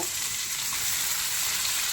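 Potato and pointed gourd (potol) fry in hot oil, giving off a dense, even, hissing sizzle that stays constant and close throughout, with no voices.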